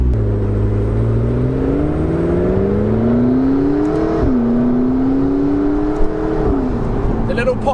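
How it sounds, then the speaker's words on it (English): McLaren 650S Spider engine driving past at speed, a loud steady roar whose pitch climbs through the gears, with small pops on each upshift. "The little pops on the upshift are very similar to the 570S"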